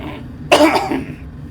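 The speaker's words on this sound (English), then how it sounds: "Excuse me, coughing a little bit there." A single sharp, close cough bursts out and trails off into a brief throaty rasp, alone against a quiet room.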